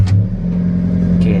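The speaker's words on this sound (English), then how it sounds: "Okay, now the car is on." An Alfa Romeo 4C supercar engine idles steadily after starting, a loud, close, even low rumble with a brief higher burst at the start and near the end.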